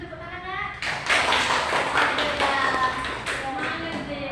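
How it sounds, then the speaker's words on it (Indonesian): A small group of classmates in a group counseling session clapping hands for a fellow student, a dense burst of close applause lasting a few seconds. "mungkin bisa diberi tepuk tangan Nak?"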